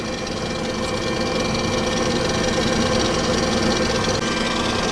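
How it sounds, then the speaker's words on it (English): A stand mixer runs steadily, beating pound cake batter with a constant loud motor hum and rattling vibration throughout, with no talking. "I'm going to stop the mixer one time and I'm just going to scrape down the sides of the bowl"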